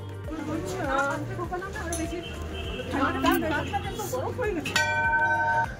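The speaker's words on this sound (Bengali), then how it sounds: "তো প্রথমেই এসে আমি ঘন্টাটা বাজিয়ে নিলাম।" A temple bell rings at Baba Mandir near the end, its clear ringing tone sustaining amid people talking and the background chatter of visitors.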